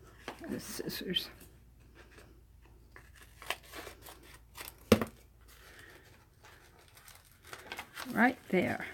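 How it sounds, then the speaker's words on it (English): Scissors snip paper for a reverse collage journal at a craft table, a few crisp cuts and crinkles close by, with soft speech and rustling around them. "the scissors."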